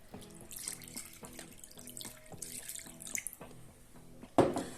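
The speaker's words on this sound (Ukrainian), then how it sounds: "я приймаю зараз рішення ще також додати десь із пів літра води" About half a litre of water is poured into shashlik meat marinade, running and splashing in close uneven bursts, ending with a sharp louder splash.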